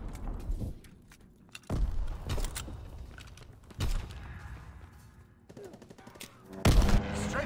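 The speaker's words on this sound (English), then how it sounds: "Fighter aircraft ready for strafing run." Strafing gunfire from a fighter aircraft in a competitive shooter video game comes as about four separate heavy bursts of rapid shots, spaced a couple of seconds apart over softer background game noise.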